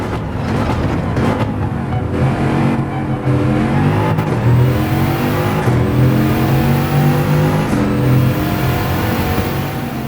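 A Bugatti VGT Group 1 race car in Gran Turismo 7 floored out of a corner, its engine roaring loud and close as it climbs through gears with rising pitch sweeps and brief shift breaks.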